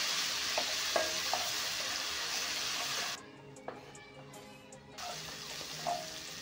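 Ginger garlic paste and whole spices frying in hot oil in a pan, a steady close sizzle with occasional stirring clinks, briefly quieter midway before the sizzle returns.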